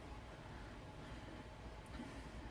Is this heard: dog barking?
no